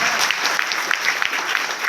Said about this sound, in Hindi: जबरदस्त तालियां अपने आप के लिए